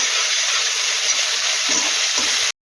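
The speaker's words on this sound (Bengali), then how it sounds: "এবার ভালো করে এটা নাড়াচাড়া করে নেব" Shukto spices (bay leaves, five-spice, and ginger, mustard and poppy-seed paste) stirred in a frying pan: a loud, continuous frying sizzle close up, ending in a sudden brief cut.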